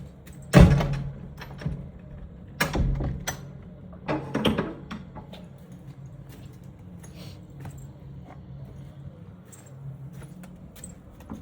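Door opening and closing at a home garden, with a few sharp knocks, clunks and rattles clustered early on and then a quiet background of faint ticks and rustles.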